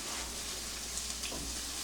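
Onions fry in a pan with a steady, soft sizzle and faint crackle throughout, alone with no talking.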